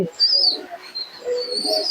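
Kept pigeons make soft, close coos and short, higher chirping calls in brief intermittent phrases over a quiet background.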